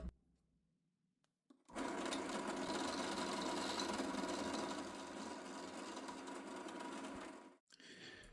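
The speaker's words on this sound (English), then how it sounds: "it starts to remove material. Now let's see. Slowly, slowly, it's getting round and round." A wood lathe spins a chess rook blank as a gouge slowly removes material, a steady dense broadband whirring and scraping rumble that starts abruptly after a quiet moment, holds evenly, then cuts off near the end.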